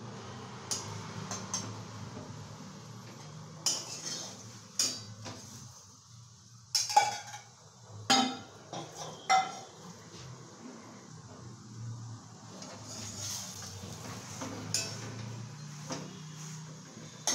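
Egg cracked against a bowl with salt at a street-style egg roll stall: a few sharp taps and clinks of shell on the bowl, amid light clatter of pots and utensils.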